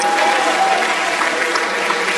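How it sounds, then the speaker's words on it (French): An audience at a comedy show applauds loudly for Oracle, a dense, even wash of clapping that holds steady throughout without a break. "Est-ce qu'on peut applaudir très fort pour Oracle, mesdames et messieurs?"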